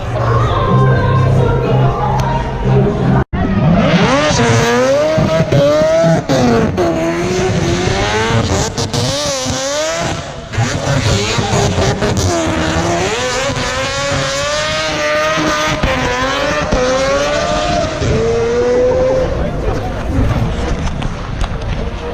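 Race car engine at the Goodwood Festival of Speed, revving up and down through repeated gear changes as it passes, loud and close, with a voice talking over it at times.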